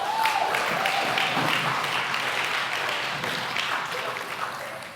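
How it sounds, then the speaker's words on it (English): Audience applause welcoming a volunteer named Owen onto the stage at a church youth talk, a steady broadband clapping that holds for several seconds and tapers slightly toward the end, with faint voices underneath. "Let's give Owen a round of applause."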